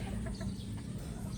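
Chickens, pullets and a rooster clucking together in a pen, a steady chorus of overlapping close clucks and low fowl murmurs filling the whole stretch with no talk.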